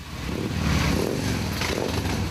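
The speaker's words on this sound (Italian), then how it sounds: "il rombo delle moto" Motorcycles roar together during a funeral procession, a dense, continuous rumble heard at moderate distance without clear individual passes.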